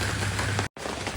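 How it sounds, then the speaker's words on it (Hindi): Heavy rain pours in a dense, constant hiss with a low steady hum underneath, broken by a brief cut to silence partway through. "बारिश इतने जोर की बारिश है।"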